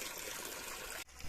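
Spring water trickling steadily from a pipe fed by a small mountain spring in a Himachal valley near Dharamshala, a close, continuous broadband wash that briefly dips near the end.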